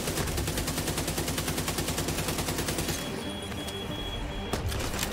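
Enemy minigun in The Division 2 firing a long, rapid, continuous burst, loud and close, with a sharp break near the end before more shots, no talking.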